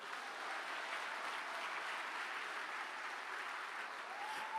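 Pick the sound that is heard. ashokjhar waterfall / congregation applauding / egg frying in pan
congregation applauding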